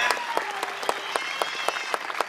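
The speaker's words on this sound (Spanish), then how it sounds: "El aplauso grande." A big round of applause from a crowd at the 2013 Feria Vive Encino Biodiverso town fair, dense steady clapping with a few sharper claps standing out, loud and close throughout.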